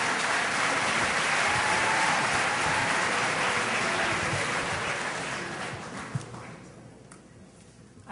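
An audience at a debate on the Israel lobby and US foreign policy applauds in a sustained, dense clapping that holds steady, then fades out near the end.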